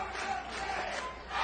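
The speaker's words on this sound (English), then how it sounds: "Crowd is on fire tonight." A wrestling crowd at an NWA TNA event roars and cheers throughout, a dense, steady mass of voices with shouts rising near the end.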